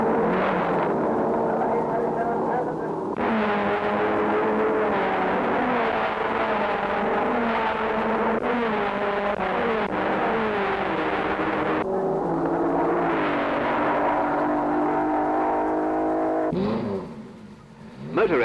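Sports racing cars roar past at speed on an endurance circuit, engines loud and continuous with rising and falling whine as they pass, a steady dense drone that dips near the end, with a voice speaking over it.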